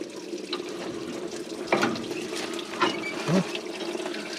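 Liquid pours steadily from an old Jeep radiator while antifreeze drains out, a continuous splashing trickle with a few louder gurgles and spatters near the end.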